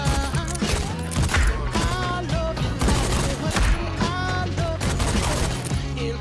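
Rapid gunfire in the VR shooter Pistol Whip, dense bursts of shots layered over loud, steady Western-style game music throughout.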